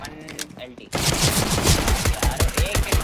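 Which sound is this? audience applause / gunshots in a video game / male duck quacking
gunshots in a video game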